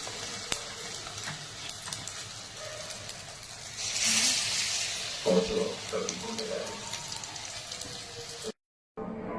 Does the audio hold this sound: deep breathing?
no